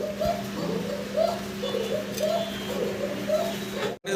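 White Bombay pigeons coo in a repeating series of soft, throaty rolling calls, close by over a steady background hum, ending with a brief handling knock.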